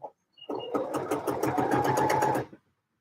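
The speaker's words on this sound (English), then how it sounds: "put in the second line of top stitching" A sewing machine runs top stitching in black thread in one steady, close burst of about two seconds, starting and stopping cleanly.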